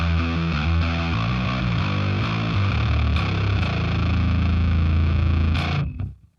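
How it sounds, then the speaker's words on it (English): Heavy metal bass guitar through a distortion pedal, loud and close, chugging a low riff of fuzzy, saturated notes for several seconds before cutting off. "a distortion,"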